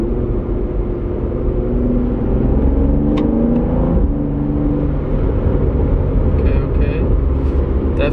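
A BMW F30 with a Bootmod3-flashed transmission accelerates under light throttle, its steady engine drone rising gradually inside the cabin, loud and continuous throughout.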